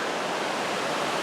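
River rushing below a moderate mountain trail in the White Mountains, a steady broadband roar of flowing water heard alone, fairly close and constant throughout.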